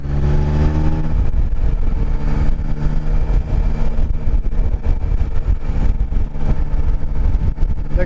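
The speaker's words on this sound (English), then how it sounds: "This is a great sounding engine." A Yamaha Tracer 9 sport touring motorcycle engine revs loudly and close by, its pitch climbing and falling through several throttle blips over about eight seconds, with no talking.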